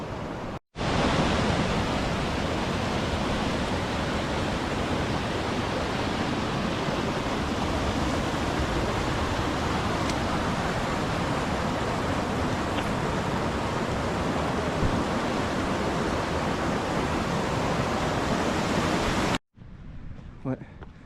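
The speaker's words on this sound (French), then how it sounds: "il y a des cascades partout, c'est vachement beau. Avec les rivières, regardez." Waterfalls and rivers on the Salkantay trek in Peru make a loud, constant rushing roar that fills the scene, then cuts off abruptly near the end.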